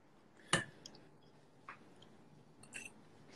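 Roasted cauliflower pasta in cream sauce being eaten up close: one sharp crunchy bite, then a few soft, quiet chewing clicks and squishes against a hushed background.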